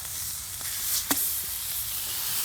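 Freshly flipped Spencer steak sizzles on a Mojoe griddle, a steady, close hiss of frying fat with one sharp pop near the middle.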